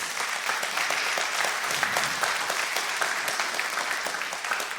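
Congregation applauding during a church service, a continuous even wash of many hands clapping at a moderate distance.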